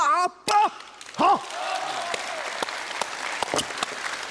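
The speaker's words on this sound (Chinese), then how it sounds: "这掌声 太好了。" A theater audience at a comic crosstalk performance breaks into loud, sustained applause after a short burst of a performer's voice, with scattered sharp claps standing out.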